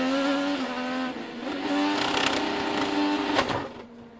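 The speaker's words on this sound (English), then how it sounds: "It sounded like the throttle stuck." Onboard an IndyCar race car whose throttle has stuck, the engine holds a high, steady, buzzing whine with little change in pitch, then fades away toward the end.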